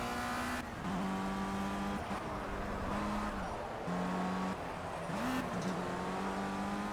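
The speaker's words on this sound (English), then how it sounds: "I am going to go ahead and speed right past everyone real quick" Race cars in the Project Cars video game drive at speed, their engine notes droning steadily with repeated shifts and rising pitch sweeps, continuous and fairly loud with no talk.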